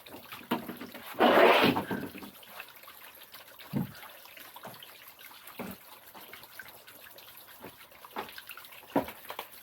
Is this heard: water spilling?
yes